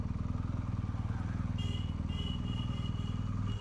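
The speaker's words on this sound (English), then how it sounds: "Can't park the bike that close, Sean." A motorbike engine idles steadily close by in a pulsing, even rhythm as it is brought to a stop near a temple in Hampi, India, with a faint high whine joining partway through.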